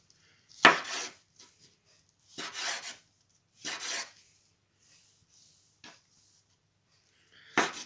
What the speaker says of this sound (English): First thing we will need to do is to chop down the oyster mushrooms.